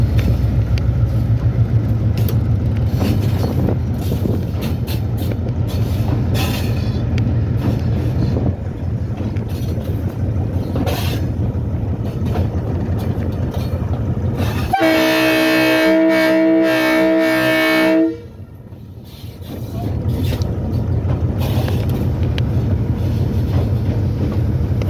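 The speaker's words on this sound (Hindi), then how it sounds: "नाडीगांव रेलवे स्टेशन से ट्रेन डिपार्च हो चुकी है।" A Pakistan Railway train departs a station on the Harnai section in Balochistan, giving a steady low rumble that rises into a loud passage of sustained, tonal mechanical whine before dropping away and returning to rumble.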